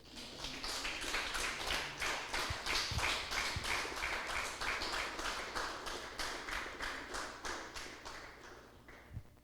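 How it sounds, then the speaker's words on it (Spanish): A church congregation claps together in a strong, even rhythm of sharp repeated beats, loud and sustained for several seconds before tapering off at the end. "Denle un fuerte aplauso al Señor"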